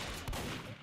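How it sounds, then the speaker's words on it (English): A sawed-off shotgun blast from the Heavy character in a Super Smash Bros mod, a single short punchy burst over a busy game soundtrack. "Side special is the sawed-off shotgun"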